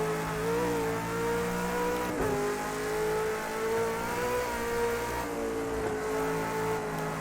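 A V8 Supercar racing at Bathurst in Project Cars 2, its engine droning in a steady tone that rises and falls with gear changes, plus a brief dip and rev in the middle.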